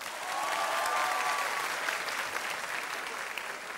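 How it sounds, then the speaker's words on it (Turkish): Sustained applause from a Turkish TV talk show studio audience for a male model finalist, thick continuous clapping at a steady level with a faint tonal whistle early on and no speech. "Şimdi erkeğine ayrı bir alkış alalım."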